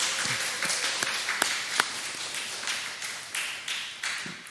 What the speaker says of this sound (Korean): 박수해줘요. 박수.